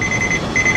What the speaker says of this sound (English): We have a chime that tells us when to get up